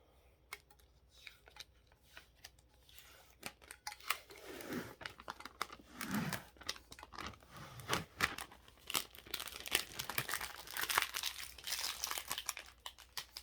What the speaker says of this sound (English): And then I pull off the transfer tape.